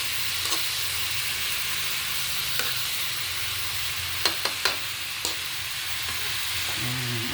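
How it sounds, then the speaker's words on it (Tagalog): Bitter gourd frying with egg and tomato in a pan, giving a steady sizzling hiss with a few clinks of a spatula stirring near the end. "Ginisang ampalaya na may egg, na may itlog at kamatis."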